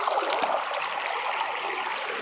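Siruvani river water flowing fast, a steady close hissing rush of stream water with bubbling texture, continuous and loud with no voices.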